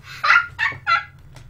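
Giant epic duck in the Roblox game Survive the Disaster, giving three loud, honking quack-like calls in quick succession over a low game hum.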